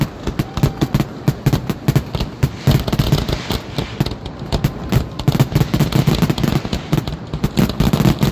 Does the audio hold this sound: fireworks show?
yes